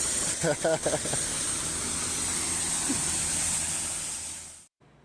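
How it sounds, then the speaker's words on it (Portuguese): A water jet gushes with a loud, steady hiss from a pipe burst by a tractor in Londrina, Paraná, sustained and close until it cuts off abruptly near the end, with brief speech at the start. "Um jato mesmo, né? A quantidade de água indo embora, né?"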